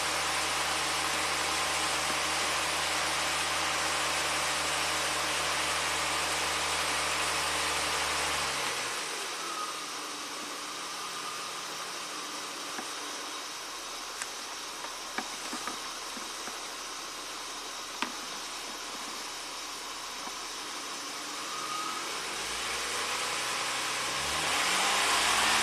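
Toyota engine running with the RPMs raised, a steady mid-pitched hum with broadband noise that drops in level partway through and swells back near the end, with a couple of faint clicks and no talk.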